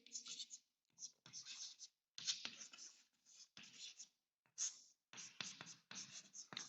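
A pen or marker scratches out an amino acid structure in short, close bursts of dry scraping separated by brief pauses, all quiet and intimate.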